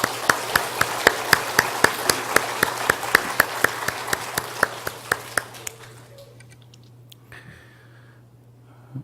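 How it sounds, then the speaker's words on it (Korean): A church congregation claps for the Siloam choir in a steady round of sharp handclaps that ring out in a large room. The clapping gradually thins and fades to scattered claps, then the room falls nearly silent. "우리 다시 한번 실로암 찬양대 우리 박수 한번 할까요?"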